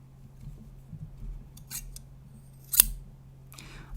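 Scissors are handled close up in a quiet room, with soft metallic snips and clicks spaced out over a low steady hum, and one sharper clack near the end.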